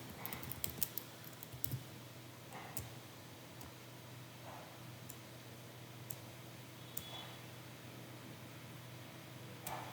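Keyboard typing in stock management software, a sparse run of soft clicks and taps set against steady background hiss, fairly quiet, with no speech.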